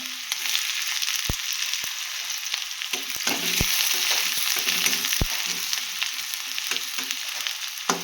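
Chopped onion frying in very hot oil for a gram-greens dish, giving a bright continuous sizzle with occasional sharp taps and scrapes of a stirring spoon against the pan.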